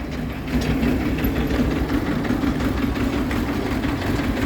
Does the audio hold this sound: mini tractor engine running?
yes